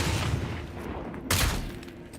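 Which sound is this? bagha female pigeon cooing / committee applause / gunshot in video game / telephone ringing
gunshot in video game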